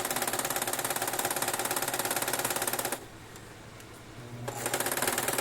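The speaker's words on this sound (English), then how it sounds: "I'm going to back stitch." Electric sewing machine back stitching fabric for a scrunchie, a loud steady mechanical whir that stops for about a second and a half of near quiet, then resumes running.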